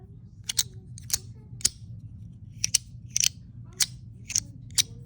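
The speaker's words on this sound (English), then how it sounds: "there's kind of like a little rattle to it on the back." Sharp, dry clicks and rattles in short bursts, roughly a dozen over a few seconds, from a rattly Compoform Tesseract piece shaken close up against a low background hum.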